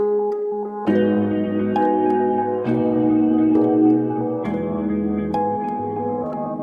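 A synthesizer multi sound plays a sequence of sustained harmonic chords. Each chord change is marked by a bright attack, and the tones are washed in reverb that lets them ring out between changes, with no talking.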